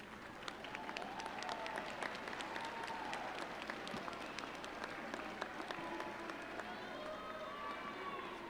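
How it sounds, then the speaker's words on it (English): Graduation audience at a spring commencement applauding, sustained dense clapping from a large crowd filling the hall at a steady level throughout. "Graduates, will you please stand and thank your families with a round of applause?"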